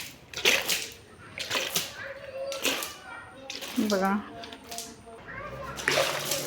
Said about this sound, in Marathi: ह्याच्यात मस्तपैकी पाणी टाकूयात मनी प्लांटच्या झाडाला.